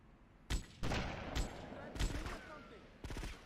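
Gunfire aimed at a sniper in GTA Vice City rings out as about five loud, close bursts of rapid shots separated by short pauses, with a voice talking underneath.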